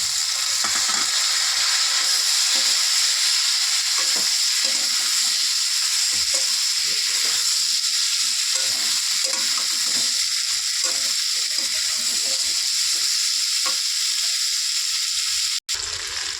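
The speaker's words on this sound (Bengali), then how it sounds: "দেখো সজনে ডাঁটা আর আলুটা আমি একটু ভালো করে ভেজে নিয়েছি।" Potatoes and drumstick (sajne data) pieces fry in a pan for a vegetable curry, giving a steady, loud sizzle throughout with occasional scraping stirs and a sharp clack near the end; no one speaks.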